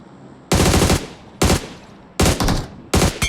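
Bursts of automatic gunfire from a video game, four loud rapid volleys each lasting about half a second to a second, separated by short pauses, with no talk over them.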